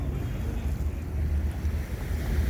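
Sea waves on the Alexandria coast, a steady low rumbling wash of surf mixed with wind noise on the microphone, continuous and fairly loud with no talk.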